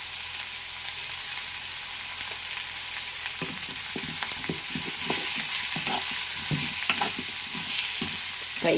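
Salt, turmeric and chilli powder are stirred into radish pulusu in a sizzling pan, with a steady fry hiss and, midway on, a run of rhythmic spoon scrapes repeating close by.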